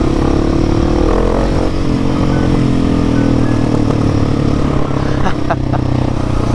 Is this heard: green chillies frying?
no